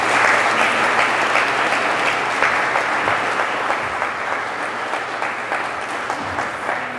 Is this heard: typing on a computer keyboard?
no